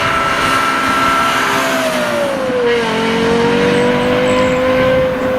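Lexus LFA supercar engine revving loudly and steadily, its high, smooth wail climbing, dipping and settling into a sustained howl close by, with no voices.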